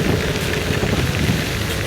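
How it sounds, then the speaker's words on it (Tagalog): Rain falls steadily during a daily motorbike ride in monsoon weather, a dense, constant hiss of drops with low rumbling road and wind noise underneath, continuous and fairly loud with no talking. "Abutan na naman ang ulan."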